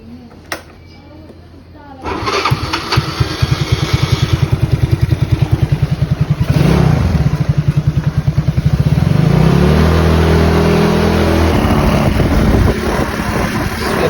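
A motorcycle engine starts up close by, then runs loudly with a steady rattle, revving up a couple of times.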